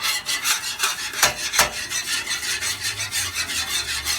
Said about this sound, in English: now I've scraped this and let that oil burn in there